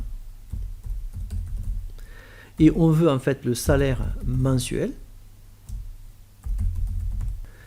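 Close computer keyboard typing, a soft steady patter of keystrokes, runs at the start and end while someone speaks in the middle.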